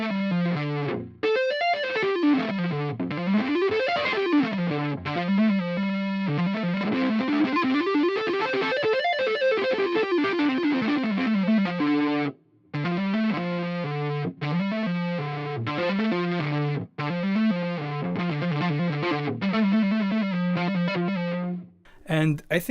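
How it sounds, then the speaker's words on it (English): Electric guitar with a DiMarzio Evolution neck pickup plays a deep pentatonic minor run from the second string down to the sixth, through effects and distortion, with quick repeated phrases running almost continuously with a few brief gaps. "a deep pentatonic minor run from the second string down to the sixth string"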